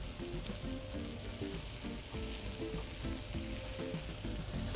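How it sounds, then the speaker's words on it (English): Scallops sear in a hot pan with a steady, close sizzle and crackle of frying fat holding an even level throughout, with no talk. "Nice sear on the scallops."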